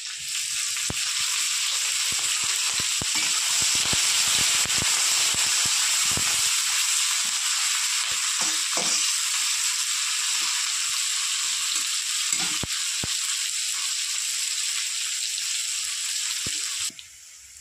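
Crushed garlic and green chilies sizzle steadily in hot oil with bay leaf, a loud continuous frying hiss with occasional spatters and stirring clicks, ending abruptly near the close.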